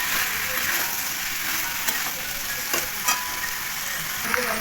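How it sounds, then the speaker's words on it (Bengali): Potatoes and jackfruit stir-fried with prawns in spice paste, a loud steady sizzle of frying with occasional scraping and knocking of a spatula against the pan, close and continuous. "এবার ভেজে রাখা আলু আর এঁচোড়টা দিয়ে দেবো, দিয়ে মশলার সঙ্গে ভালো করে কষিয়ে নেব।"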